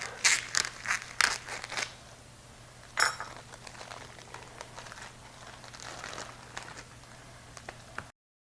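A hardwood smoked ham being cut in half, with crisp crunching and crinkling bursts early on, then softer, steadier cutting and handling sounds nearby.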